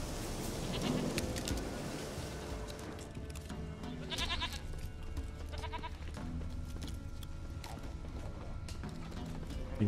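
Sheep bleat in the fantasy role-playing game The Witcher 3: Wild Hunt, several wavering calls rising over a dense bed of ambient game sound and mechanical clatter, fairly close and continuous.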